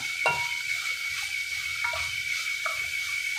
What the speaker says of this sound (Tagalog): Medyo sangkotsan natin ng maigi para lumabas yung katas, yung mantika ng taba-taba.